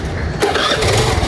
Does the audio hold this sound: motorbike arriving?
yes